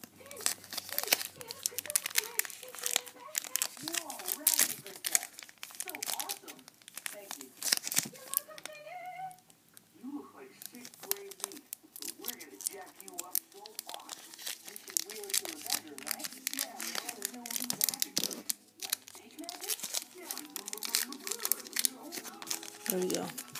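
Pokemon EX Power Keepers booster pack wrappers are torn open and crumpled by hand, repeated crinkling foil rips and rustles, close and intermittent, with a person talking throughout.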